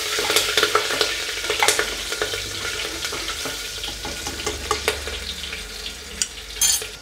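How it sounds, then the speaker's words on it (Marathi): Green chilli pieces and curry leaves sautéed in oil in a pan while cooking a traditional Marathi moong dish, with steady sizzling, frying crackle and repeated stirring scrapes, close and clear, no talk. "आपण केलेले हिरव्या मिरच्याचे तुकडे यात टाकले। ते चांगले आता परतून घेऊ।"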